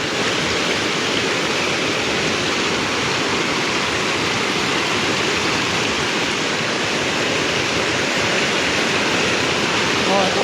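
Rushing floodwater roars as a constant broadband wash, loud and close with no letup, while a voice talks faintly beneath it.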